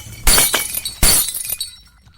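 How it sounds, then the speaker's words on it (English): Glass shatters twice in quick succession, each crash loud and sharp with tinkling fragments trailing off into quiet. "the window shattered and some of the light bulbs exploded"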